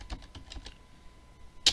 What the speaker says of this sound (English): We can type reboot and press enter